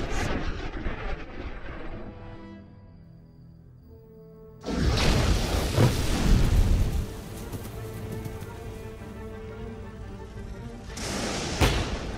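Thunder from a nighttime thunderstorm rumbles low, then a loud crack and heavy boom break in midway and roll on, with another sharp burst near the end.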